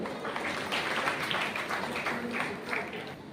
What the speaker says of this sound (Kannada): ತಮ್ಮೆಲ್ಲರ ಜೋರಾದ ಚಪ್ಪಾಳೆಗಳು ಬರಲಿ